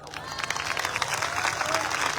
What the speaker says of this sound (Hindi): आप ताली बजा रहे हैं, हल्ला मचा रहे हैं